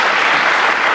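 A brief burst of loud, dense clapping from a studio audience on a Belgian TV quiz show, steady and close throughout without any speech.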